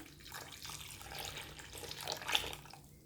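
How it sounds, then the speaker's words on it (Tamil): Water runs steadily from a tap or jug into soya dosa batter for a few seconds, a soft splashing stream with a brief louder gush near the end. "இதிலே கொஞ்சம் தண்ணி சேர்த்துக்கிறேன்"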